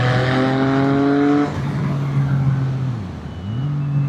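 A CF Moto 675NK motorcycle engine accelerating hard in third gear on an open road, loud and close, its rising whine cutting off as the revs drop, then climbing again briefly.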